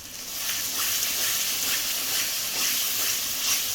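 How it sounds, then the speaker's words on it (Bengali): Whisked sour yogurt hits a sizzling spice paste for a rohu fish curry, giving a loud, steady hiss of frying that holds evenly throughout with slight rises and no voices. "এবার আমি দিয়ে দেবো যেটা ফেটানো টক দই।"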